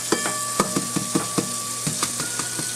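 Chopped onion sizzles in a pan for a quiche, with a steady frying hiss broken by a series of sharp clinks and scrapes of a utensil against the pan, close and fairly loud.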